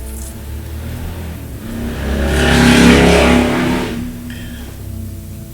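Nearby engine revving up to a loud peak around the middle and then easing back down, a single swelling rev with a steady idle before and after, consistent with a motorcycle.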